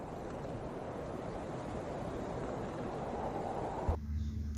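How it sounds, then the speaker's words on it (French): Wind blowing as a continuous broadband rushing roar outdoors, steady and fairly loud throughout, alone without voices, cut by a brief bump near the end. "Oui, c'est le son du vent."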